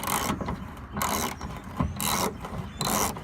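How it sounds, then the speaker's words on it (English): A ratchet loosening a 10mm bolt on the rear bumper of a 2005-2006 Nissan Pathfinder, heard as four loud, close bursts of rapid clicking separated by short pauses. "Just make sure you got a ratchet that's strong enough to get it off."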